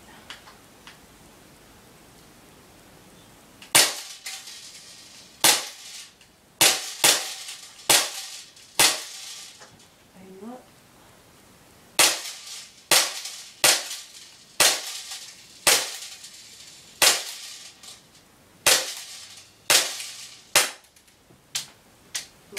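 An airsoft pistol firing BBs, sharp snappy cracks in uneven bursts: a few single shots, then rapid runs of several in quick succession, loud and close with quiet gaps between, and no talk.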